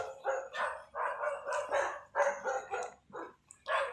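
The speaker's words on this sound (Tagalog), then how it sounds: "ang dilim kumakahol pa ang aso" A dog barks repeatedly in quick, uneven bursts on a dark road at night, fairly close and loud, with short pauses between volleys.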